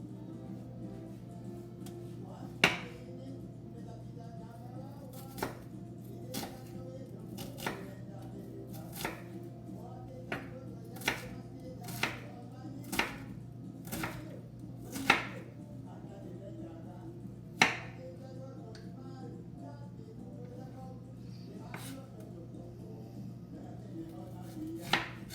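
Vegetables get a rough chop with a knife on a board, about sixteen crisp, irregularly spaced thuds over a quiet low hum.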